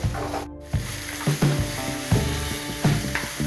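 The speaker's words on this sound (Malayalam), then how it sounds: "സബോള, വെളുത്തുള്ളി ഇത്രയും ഇട്ടിട്ട് നമ്മൾ നന്നായി ഒന്ന് ഇളക്കി വഴറ്റിയെടുക്കുക" Chopped onion and garlic sauté in a hot pan, a loud, close, continuous sizzle broken by several scraping stirs of a spoon, with no voices.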